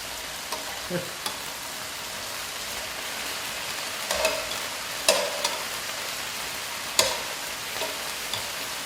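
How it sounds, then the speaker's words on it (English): Food sizzles steadily in an electric skillet, a constant crackling hiss with occasional louder pops and spatters, fairly close and without any voices. "Sometimes in an electric skillet like this, you want to rotate the ones from the outside in"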